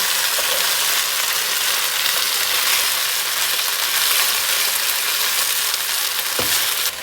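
A steady, even sizzle comes from beef and broccoli stir-frying in a hot pan, close and fairly loud. It holds constant throughout, with one brief clack near the end.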